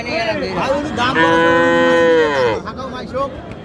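Cattle low at a busy livestock market in Aftabganj, Dinajpur, where heifer calves are traded; one long, loud, close moo rises and holds for over a second, with market crowd noise around it.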